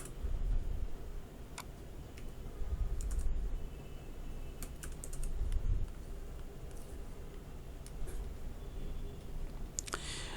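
Steady typing on a computer keyboard while writing code, with rapid close key clicks in uneven bursts and short pauses over a low background hum.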